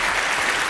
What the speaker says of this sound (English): Yay, applause, applause.